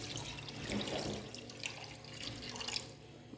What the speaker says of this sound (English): I'm gonna put more water.